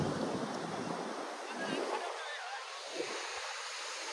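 Sea waves wash and surge along a shoreline, a steady broadband roar with wind buffeting the microphone throughout.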